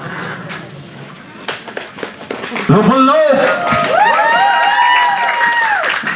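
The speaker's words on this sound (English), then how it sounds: "play a round of applause for Place Ruda" An audience applauds and cheers for performers at a Yap cultural presentation during an expo in Pohnpei, a broad crowd wash swelling loudly midway as voices and music-like tones rise over it.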